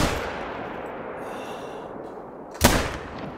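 A single sharp rifle shot from a .243 hunting rifle in theHunter: Call of the Wild cracks out near the end, rising out of steady outdoor ambience.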